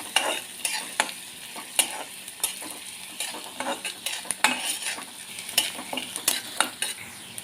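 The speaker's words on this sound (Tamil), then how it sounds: "வெங்காயம் கொஞ்சம் வதகட்டும்." Chopped Bellary onion sautéing and being stirred in a pan for betel-leaf rice, a steady soft sizzle broken by sharp scrapes and clinks of a spoon against the pan, close and alone without voices.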